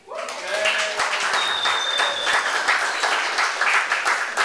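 A crowd applauds steadily, many hands clapping together at an even level throughout, with a few scattered voices mixed in.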